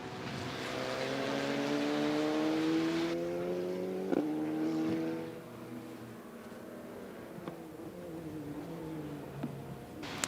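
A 270 Ferrari race car at an American speed festival passes on track, its engine note loud and sustained with a sweeping pitch shift as it goes by, then fading to a steadier, quieter drone.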